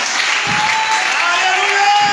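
Applause from a church congregation welcoming a woman forward to give her testimony, a steady dense wash of clapping and cheering that holds loud from start to finish.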